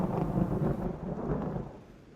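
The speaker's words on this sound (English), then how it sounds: "There was another clap of thunder," Thunder clap in a spooky Halloween story scene, a deep rumbling roll that swells and slowly fades out over a couple of seconds, no voices over it.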